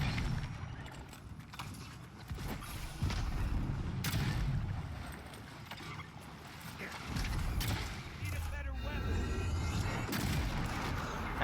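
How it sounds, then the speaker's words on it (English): Exploding beetles in the fantasy video game Avowed burst with repeated booming blasts and thuds amid a busy, continuous game soundscape, with sharp cracks recurring throughout. "They are exploding beetles."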